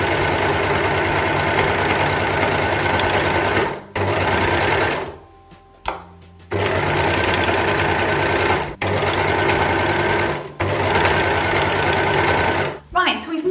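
A sewing machine stitching a Wish dress being altered into a top, running in several long steady bursts of rapid whirring with short pauses between, loud and close.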